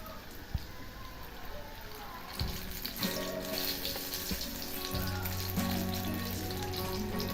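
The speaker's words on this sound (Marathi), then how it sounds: "पहिल्यांदा गॅस बारीकच करायचा म्हणजे अशी छान अशी भाजली जातात" Kolhapuri green chillies roasting in a pan over low gas, a soft continuous sizzle with occasional knocks, joined midway by steady running-water and sink-like sounds.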